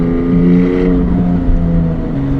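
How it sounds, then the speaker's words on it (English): Porsche 718 GTS 4.0 engine drones steadily up close with a strong, even tone, then its pitch drops near the end as a gear changes. "I just love rowing through these gears"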